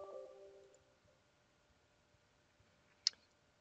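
A single sharp click from the enter key on a computer keyboard, brief and close in a quiet room after a short faint hum.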